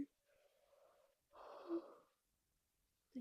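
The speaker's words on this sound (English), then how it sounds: "I think that's like my third or fourth time yawning" A tired person yawning quietly nearby, with a soft drawn-out breathy exhale followed by a longer, louder open-mouthed yawn with a slight vocal tone, framed by brief voice at the edges.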